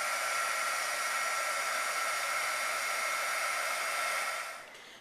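A heat gun blows over a stamped craft piece with a steady, loud, close rushing hiss. The hiss holds evenly for about four and a half seconds, then drops away as the gun is switched off.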